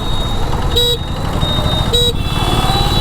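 Busy street traffic heard while riding an Odysse E2go electric scooter, a constant engine and road rumble with two short car horn toots about a second apart.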